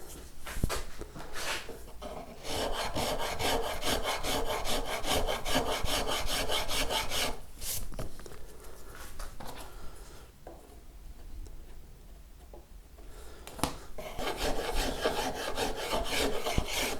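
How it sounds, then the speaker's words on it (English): A rasp files wood on the neck of a Blackguard Esquire guitar under restoration, making loud, rhythmic back-and-forth scraping strokes. The strokes stop briefly twice, then start again. "so probably 5 minutes work there with the rasp"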